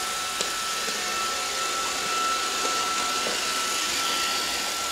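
A Roomba robot vacuum cleaner runs indoors with a steady whirring hum and a thin high whine, with a few faint clicks and bumps over it. No one speaks.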